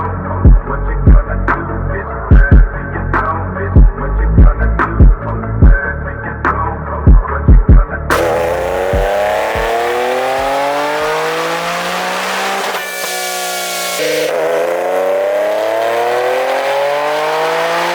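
A loud supercharged Nissan 370Z engine running E85 idles roughly with rhythmic pops on a dyno, then roars into a long rising rev that climbs in pitch, drops off, and climbs again.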